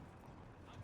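Horses clip-clop faintly for a brief moment in Red Dead Redemption 2 on the WildRP server, with soft hoofbeats under a quiet voice.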